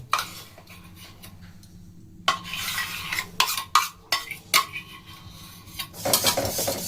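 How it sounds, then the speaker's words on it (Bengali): A spoon stirs dissolved cocoa powder into a chocolate ice cream mixture in a metal pot on a gas stove. Close scraping and clinking strokes come in an uneven rhythm after a brief quieter stretch, with no talking. "এভাবে নাড়িয়ে নিতে হবে।"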